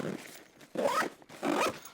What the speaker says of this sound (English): We can zip this guy up.